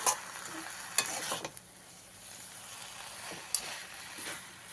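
Red amaranth greens being stirred in a pan: soft sizzling under a few sharp scraping strokes of a spoon, near and moderately quiet, clustered at the start and again later, with no talking.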